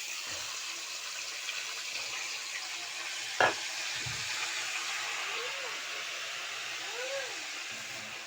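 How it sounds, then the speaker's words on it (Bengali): Marinated chicken for chicken kosha cooking in a pan, giving a steady loud sizzle and hiss throughout, with a brief clack of a utensil partway through. "এই দেখো মাংসটা আমি দিয়ে দিলাম।"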